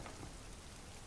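Rain falls in the Castlevania video game, a short burst of dense, even hiss of steady downpour with no other sounds.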